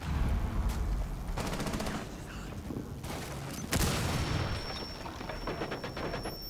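A wall blasts open in Rainbow Six Siege on the Favela map during a Secure Area match: a sharp, loud explosive crack with a lingering ringing tone, surrounded by repeated bursts of rapid gunfire and debris clatter throughout.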